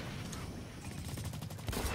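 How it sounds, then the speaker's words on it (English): Rapid, continuous gunfire in the Blacklight shooter game, a dense rattling burst of shots under steady battle noise, fairly close and sustained for the whole short stretch. "I was just shooting everywhere"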